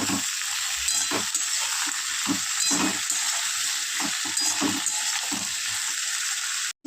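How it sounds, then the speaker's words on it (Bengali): Winter vegetables fry with salt in a pan for a shrimp and Malabar spinach chorchori: a constant bright hiss of frying with regular soft scrapes of stirring, close and steady, without speech. "স্বাদ মতো নুন দিয়ে সবজিগুলো খুব ভালো করে ভেজে নেব"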